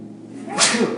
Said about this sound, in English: My eyes, I get sun sneezes, so pardon me